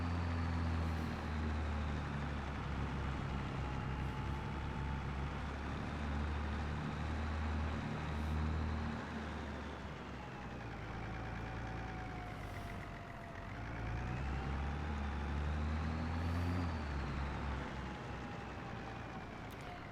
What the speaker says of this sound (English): I've no idea how this tractor will handle this hill.